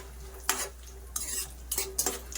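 Dry fruits fry in a pan for rava kesari, with four short bursts of scraping and clinking as a spoon stirs them against the metal over a faint steady hum, close and without talk.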